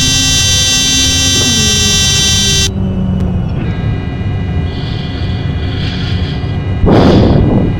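A steady, loud tonal warning horn sounds in a Cessna 404 flight simulator for about two and a half seconds before cutting off, leaving quieter cockpit hum, faint tones and a brief burst of noise near the end.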